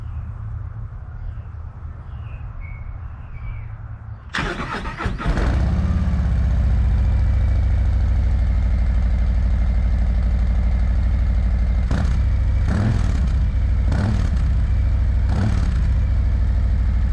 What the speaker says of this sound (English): gonna do the stock sound on the 24, 117, stock head pipes, stock exhaust, nothing new